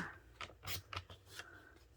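Scissors cut through an adhesive sheet in a few quick, soft snips and rustles, close by and quiet, with no talking.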